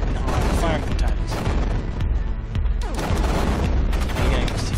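Video game gunfire in Axiom Verge comes as dense, continuous rapid bursts of punchy blasts and booms, loud and close throughout, with players talking over it.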